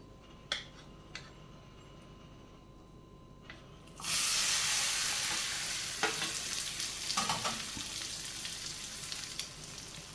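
A Spanish omelette of egg, potato and onion is laid into a hot pan, and a loud, steady sizzle swells up after a few quiet seconds with light scraping clicks and continues strongly to the end.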